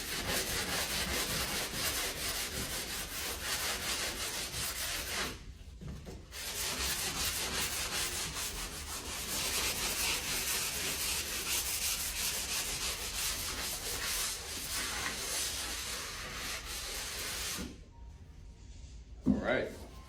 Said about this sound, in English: And then I get my 80 grit sandpaper.